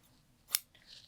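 A single crisp snip of scissors trims quilted fabric at the collar of a quilted jacket, one close, sharp cut in an otherwise quiet room, followed by a faint rustle.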